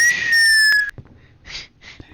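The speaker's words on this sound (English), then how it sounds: "I just want to whistle back, and I hope it gets to him." A person whistles a short two-tone phrase, a steady pitch sliding slowly downward for under a second, then stops; a few faint breathy bursts follow in near silence.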